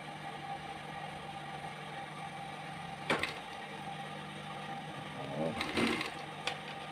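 A sewing machine hums steadily at low volume while stitching a backpack, with a couple of brief louder handling rustles and clunks breaking in along the way.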